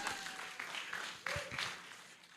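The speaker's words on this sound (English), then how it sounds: "A huge round of applause for me." Faint, scattered applause from a small audience at a community digital literacy hub launch, with uneven bursts of clapping and some background voices.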